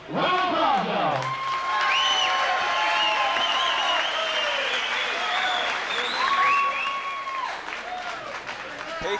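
Sustained crowd applause and cheering at a pro boxing event as the fighters enter, a dense steady roar of clapping with whistles and shouts throughout.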